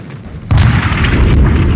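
An autonomous robot weapon fires: a sudden heavy blast hits after a brief low rumble, then a loud dense roar sustains with crackling bursts layered through it, close and powerful.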